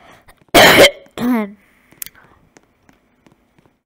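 One harsh, loud cough close to the microphone is followed by a shorter throat-clearing rasp. Then come faint soft noises in a quiet room.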